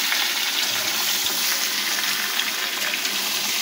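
Plantain (kola alu) pieces fry in hot oil with whole cumin seeds tempering, giving a steady, close, even sizzle that holds throughout with no one speaking.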